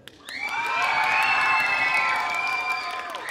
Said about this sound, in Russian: вы кричите и хлопаете, топаете ему так громко, насколько он вам понравился